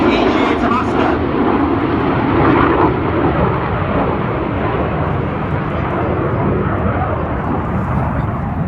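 RAF Red Arrows jets roar through a display at an airfield festival, a loud broad continuous jet rumble filling the whole stretch.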